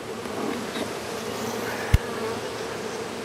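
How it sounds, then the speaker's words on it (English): A steady, droning buzz from a mass of honey bees in front of the hive while they are brushed off the frames, close and even throughout, with one brief sharp knock partway through. "So we're brushing them off down here in front of the hive."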